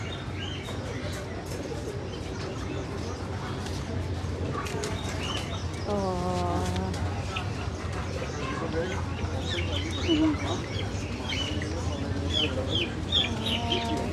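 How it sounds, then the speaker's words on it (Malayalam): A flock of pigeons cooing and fluttering nearby, with steady birdsong and clucking throughout, and a person speaking softly in the background. "എന്തോരം പ്രാവാ എന്തോരം പ്രാവാണ്"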